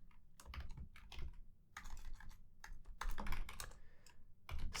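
Typing on a computer keyboard while writing an SQL query, dense runs of close key clicks in bursts with brief pauses, no talk.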